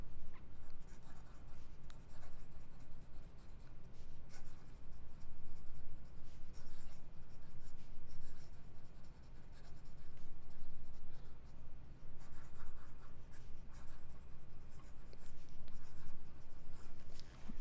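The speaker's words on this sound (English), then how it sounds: "And fast writing." Fast writing with a Platinum 3776 fountain pen fitted with a music nib, its steady close scratching of nib on paper running continuously with brief pauses between strokes and no talk.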